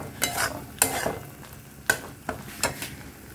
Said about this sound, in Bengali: মশলাটা কিন্তু বেশ খানিকক্ষণ ধরে আমি কষাচ্ছি